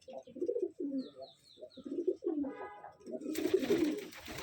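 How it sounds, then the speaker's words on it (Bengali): Low, rolling coos from an old male pigeon come in short repeated bursts, with a faint high chirp early on and a louder rustling, flapping noise toward the end. "এই হচ্ছে নর পায়রা, খুব পুরনো"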